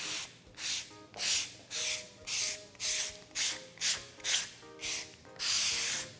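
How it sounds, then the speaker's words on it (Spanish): Sandpaper worked by hand over a tray being prepared for decoration, in about eleven rhythmic, close, scratchy strokes at an even back-and-forth pace. The last stroke is longer, and no one speaks. "empezamos a lijar, principalmente pues haciendo énfasis en esa sección, y en esta parte solamente hacemos una pasada suave"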